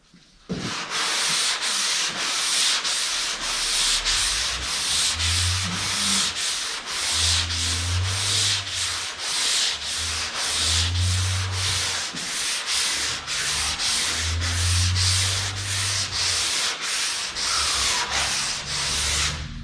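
Hand sanding of primer on a Z28 car door with 220-grit paper, a loud rhythmic back-and-forth rasping repeated in steady strokes for nearly twenty seconds, with no voices.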